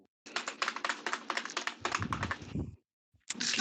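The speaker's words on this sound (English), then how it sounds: "I heard some typing." Close fast typing on a computer keyboard clatters in dense bursts of crisp clicks, stops briefly for a short silence, then resumes.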